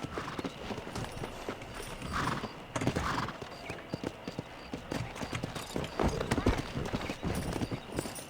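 Hoofbeats of a ridden horse in Red Dead Redemption, a steady clip-clop rhythm with occasional whinnies, carrying on beneath a man's speech throughout.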